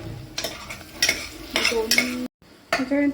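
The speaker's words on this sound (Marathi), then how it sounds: "आपण जी पेस्ट कांदा टमॅटोचे परतणार आहोत ते चांगल्या प्रकारे परतून घ्यायचं." Onion-tomato paste for Malvani-spiced chicken masala being sautéed in a pan, with loud scraping strokes of a utensil against the metal and a soft sizzle underneath, broken by one brief silent gap.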